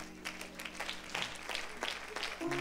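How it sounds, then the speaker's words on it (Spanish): A church congregation applauds during a service, a loose patter of irregular claps from a moderate crowd, with a sustained hum of instruments underneath. "Denle un aplauso, Señor,"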